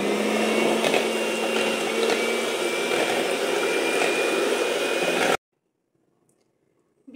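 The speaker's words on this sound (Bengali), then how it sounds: "এখন একটা ইলেকট্রিক বিটার সাহায্যে আমি ডিমগুলোকে বিট করে নিব।" An electric hand beater whirs steadily as it beats three room-temperature eggs for vanilla cupcake batter, a loud continuous motor drone lasting about five seconds before cutting off abruptly into near silence.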